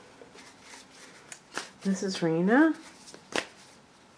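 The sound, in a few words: shuffling Wild Unknown Tarot cards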